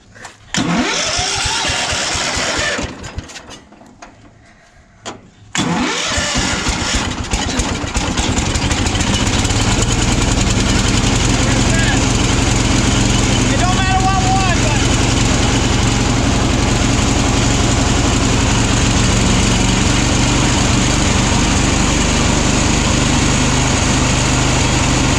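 A Cub Cadet 1250 lawn tractor low on gas cranks, cuts out, then catches after a few seconds and runs steadily at a loud, close idle for the rest of the stretch.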